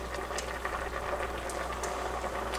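Pasta boils in a pot of water on the stove, a steady close bubbling and hissing with faint pops throughout, no voices over it.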